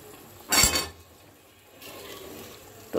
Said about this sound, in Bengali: দেখো আমার মাছের ঝোলটা কি সুন্দর বলক চলে আসছে। এখন আমি দিয়ে দেব ভেজে রাখা মাছগুলি।